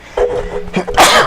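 A single sharp, loud sneeze bursts out near the end of a short stretch of talk, following a quieter throat sound.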